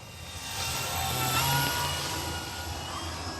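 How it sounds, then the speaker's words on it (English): An E-flite Cherokee 1.3 m RC model airplane passes low and slow overhead, its electric motor a steady whine that swells toward the middle and then eases off slightly, heard alone over light wind. "I love flying this plane low and slow."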